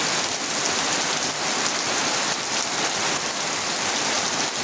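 Rain falls steadily on surfaces in Gobindapur village, Feni, a dense even patter filling the scene with no pauses and no voices.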